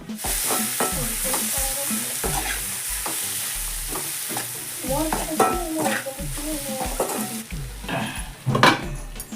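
Cabbage stir-frying in a pan with ground chili powder, a steady sizzle broken by repeated scraping and clinking of a utensil against the pan, close and busy throughout.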